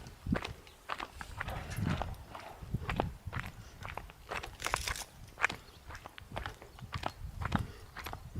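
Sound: horse hooves walking

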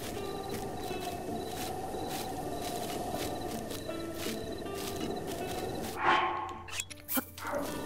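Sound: dog barking in video game Zelda Breath of the Wild

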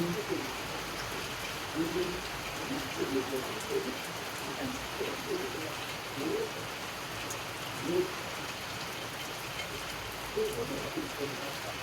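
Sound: heavy rain falling

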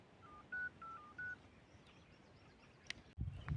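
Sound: telephone number being dialed

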